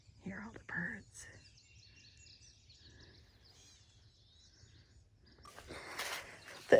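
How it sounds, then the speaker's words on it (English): Birds chirping and trilling faintly near a creek in a Missouri conservation area in May, scattered calls in an open field, with soft human whispering and rustling nearby. "Hear all the birds."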